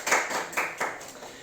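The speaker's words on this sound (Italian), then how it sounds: "Un applauso a Teresa" Sparse clapping from a small studio audience on a comedy game show, a few distinct claps in an uneven rhythm over a second and a half.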